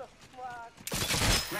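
Apex Legends gunfire erupts as a sudden loud burst of rapid shots and impacts, following a short stretch of quieter in-game voice and tones.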